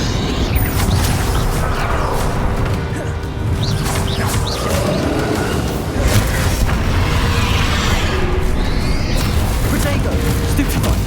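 Confringo blasting-curse explosions during a spell battle in Hogwarts Legacy, with dense crashing blasts, smashes and mechanical clatter running continuously, loud and close, under occasional shouted voices.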